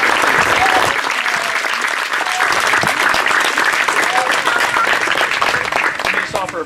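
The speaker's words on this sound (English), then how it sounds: "Let's just give those who've done this another round of applause." A crowd at an outdoor church service claps steadily and loudly for several seconds after baptisms, dense sustained applause with a few voices mixed in.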